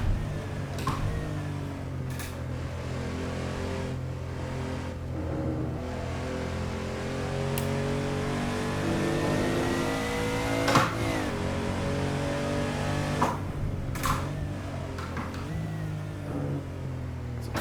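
A Porsche 993 in the Assetto Corsa racing game drives at over 200 km/h, its engine note holding a loud, steady high-rpm drone with slowly shifting pitch and a few brief clicks or shift blips, and no talk.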